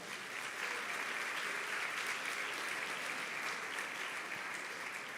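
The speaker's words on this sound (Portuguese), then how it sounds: "Dá um aplauso ao Senhor." A church congregation applauds steadily during a Sunday morning service, a dense, continuous wash of clapping that holds at an even level throughout with no talk over it.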